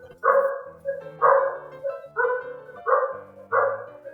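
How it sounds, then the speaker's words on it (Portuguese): Dog barking in a nearby home during a podcast recording, five evenly spaced loud barks over a faint low hum. "peraí que o cachorro tá latindo."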